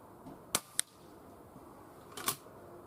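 Weihrauch HW100 air rifle fired outdoors at a 35 m target on a very windy day: a few faint, sharp cracks and clicks, two close together and then a third after a pause, over quiet background.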